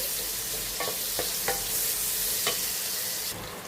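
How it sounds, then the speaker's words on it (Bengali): Chopped onions drop into hot oil and fry with a steady, close broadband sizzle, broken by a few sharp stirring scrapes of a utensil against the pan, with no talking. "তেল গরম হয়ে এসেছে এখন এর মধ্যে আমি কুচনো পেঁয়াজগুলো ছেড়ে দিচ্ছি"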